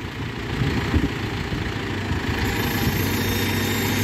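Tractor engine idling nearby with a magnetic sweeper attachment, a steady low rumble and vibrating drone holding constant throughout with no talk over it.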